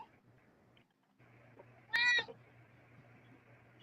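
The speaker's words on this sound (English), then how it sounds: "That's my kitty cat." A pet cat lets out one short, clear meow indoors, close by, against a faint steady household hum.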